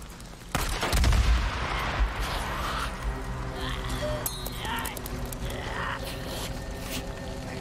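A gunfight in the video game Days Gone: an opening crack and a heavy low blast, then scattered shots and bangs under tonal game ambience, moderately loud, with some talking mixed in.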